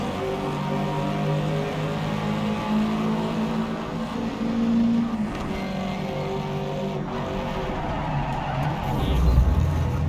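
Car engine noise from the racing video game Project CARS 3, a steady droning rumble with rising revs and a brief rough scrape as the car crashes, loud and continuous throughout.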